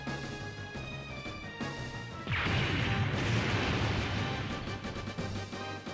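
Explosion sound effects from Super Robot Wars Alpha on the Dreamcast: a crashing blast bursts in partway through a busy game soundtrack and rumbles on at steady loudness.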